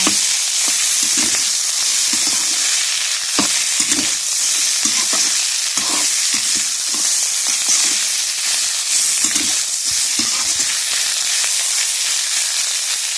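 Long beans stir-fry in a hot pan with a loud, steady hiss of frying and soft rhythmic thumps of stirring throughout, close up and without speech.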